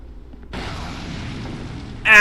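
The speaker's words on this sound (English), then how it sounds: "Explosion time!" An explosion in the video game Dark Souls II: Scholar of the First Sin bursts in abruptly after a quiet start, then holds as a sustained roar with a brighter tonal flare at the end.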